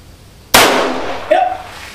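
A Nagant M1895 revolver fires a single 7.62mm Nagant round at close range, one sharp loud crack with a decaying tail, followed by a brief metallic ring.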